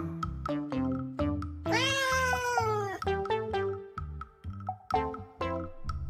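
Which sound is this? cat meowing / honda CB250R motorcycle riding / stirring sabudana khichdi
cat meowing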